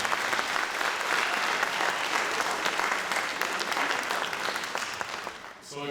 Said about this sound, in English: let's give another round of applause to our student speakers